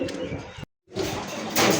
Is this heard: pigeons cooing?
yes